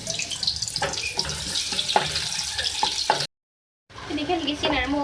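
A medium onion fries in oil in a karahi with a bright, crackling sizzle and some stirring clatter. A short silent gap breaks the sound before the frying returns.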